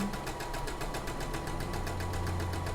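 A sewing machine stitches the hem of a pair of pants in a fast, even mechanical chatter with a steady motor hum underneath, close and continuous.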